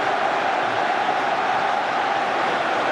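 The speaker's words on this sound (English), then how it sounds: "Just listen to the crowd appreciating this performance." Football crowd at a Celtic versus St Mirren match, a broad, steady roar of a large stadium audience applauding and cheering, distant and continuous with no distinct voices standing out.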